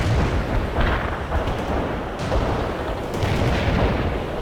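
Sustained artillery barrage in the video game World in Conflict, a dense, continuous rumble of booming impacts and firing with no pauses, loud and close throughout.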